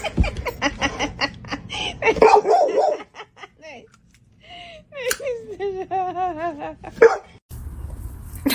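A pet dog making excited barks and yips mixed with snorting, chuckle-like vocal sounds, close and loud, while a person talks affectionately over the first part.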